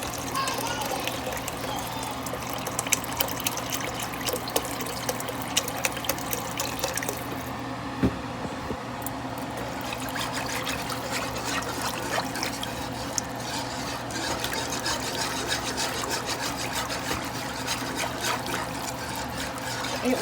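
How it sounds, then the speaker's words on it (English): Broth streams steadily into a pan for smothered chicken while being whisked. A continuous close wash of liquid and stirring noise runs throughout without pause. "I would probably keep whisking while I'm adding in the broth"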